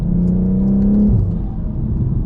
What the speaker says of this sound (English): That intake noise is just ridiculous, like ridiculously good.